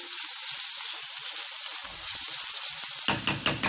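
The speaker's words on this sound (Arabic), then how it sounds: "هنزل بقى بالكبد بعد ما قطعناها برضو، بتاخد تشويحه بس بسيطه كده" Chopped liver sautés in a hot pan with a steady, close hiss of sizzling, and sharper stirring scrapes and clatters break in near the end.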